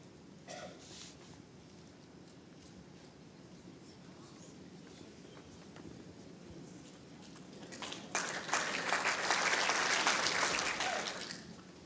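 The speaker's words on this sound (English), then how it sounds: "Well, it's an encouraging clap, I think." Applause from the crowd at an indoor bowls final, the 2018 World Indoor Women's Singles Final, swelling from scattered claps into a fuller burst of clapping before fading.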